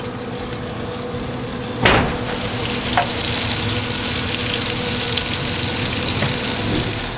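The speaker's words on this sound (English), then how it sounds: "we're just gonna transfer these onions over to the skillet, let those caramelize for another 15-20 minutes or so" Onions caramelizing in bacon grease in a skillet on a Yoder grill, giving a steady close sizzle and crackle with a sharp clatter near the start and a faint clink later.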